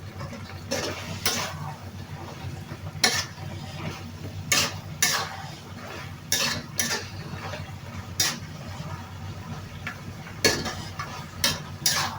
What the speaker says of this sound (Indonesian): Kita aduk-aduk sebentar.